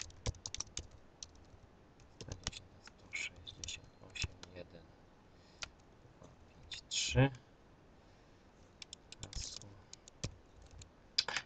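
Keys clicking on a computer keyboard while an IP address is typed into a camera setup screen, a few short bursts of taps spread out between quiet stretches, close by, with someone speaking now and then.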